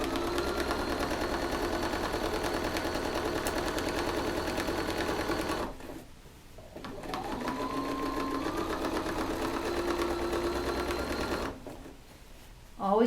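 A sewing machine stitches through a quilt in steady rapid runs, pausing twice briefly before resuming, its rhythmic mechanical whir close and continuous.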